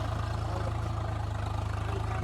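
Tractor engine running steadily in a field at dusk, its low, even throbbing drone continuous and fairly close throughout.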